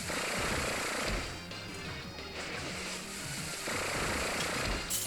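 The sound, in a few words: Gear Grind attack from Pokémon Sun video game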